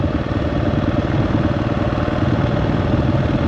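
KTM 690 Enduro R single-cylinder motorcycle engine braking downhill on a mountain trail, a steady, loud, low rumbling burble with constant throttle-off chatter and no speech.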